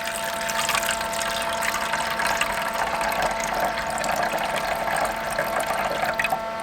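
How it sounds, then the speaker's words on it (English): Warm water pours into the humidity reservoirs of an egg incubator for hatching turkey eggs, a steady bright splashing stream running continuously, with one brief spoken word. "I'm just going to fill up both these little reservoirs with water."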